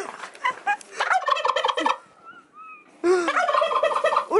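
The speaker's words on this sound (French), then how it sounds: "Le dindon sauvage." A wild turkey lets out a sharp gobbling burst, then pauses while faint high bird chirps come through, then gobbles again, loud and close.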